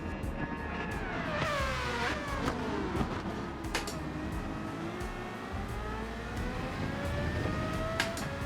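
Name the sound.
Formula 1 car engine revving in Gran Turismo video game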